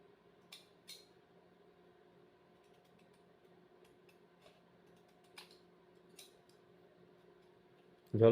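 Scissors snipping through a printed PVC ID card, a few sparse quiet crisp cuts spread out with pauses between them, close but faint, over a soft steady hum.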